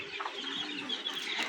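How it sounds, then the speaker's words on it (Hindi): Young desi chicks on a small backyard chicken farm cheep continuously in a dense, high-pitched chorus, close and steady throughout with no talking. "और ये है हमारे मुर्गी के बच्चे।"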